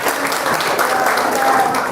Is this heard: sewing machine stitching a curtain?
no